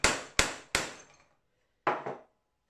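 Sharp metallic hammer taps on a rivet snap round over a rivet head held in a vise on a 2-inch Fowler Showman's traction engine model: three quick blows, a pause, then two more, close and ringing briefly.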